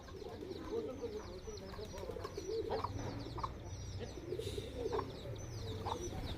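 White pigeons cooing while being fed in a village yard, soft repeated coos from nearby with a chicken around and faint background noise.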